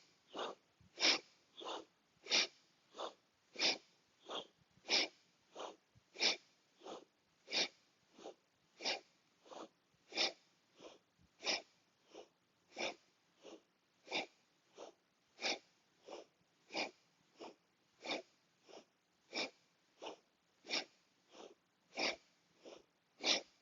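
Steady rhythmic breaths in a kundalini yoga exercise, about one forceful sniff-like inhale or exhale per second, close and clear, repeating evenly with no talking.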